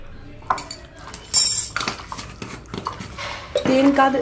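Turmeric and cumin powder being mixed into raw chicken pieces in a metal bowl for pakodi, with scattered clinks and scrapes of a spoon against the dish and a few sharper knocks, close up.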